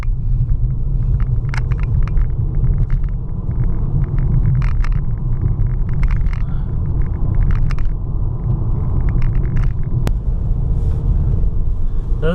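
A Mercedes C-Class drives over a rough, potholed road, heard from inside as a loud continuous low rumble with scattered knocks and thumps from the suspension.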